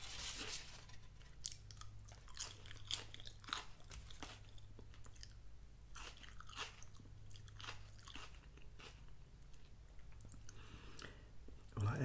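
Close, quiet chewing of a Five Guys little hamburger topped with grilled onions, soft repeated bites and crunchy, moist mastication in an uneven rhythm, with no talking.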